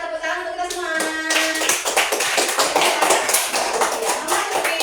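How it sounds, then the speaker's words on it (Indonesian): Audience clapping at a school collage-making activity, a burst of many hands applauding steadily and fairly loud after a brief moment of speech at the start. "kita tepuk tangan untuk kita semua"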